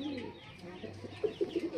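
Teddy pigeon chicks coo softly and repeatedly at close range, low throaty pulses that grow more frequent toward the end, over a faint steady background hum.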